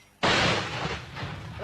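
A single heavy artillery or gun blast in a war battle, a sudden loud boom that rolls and decays over more than a second, with a voice faintly audible at the end.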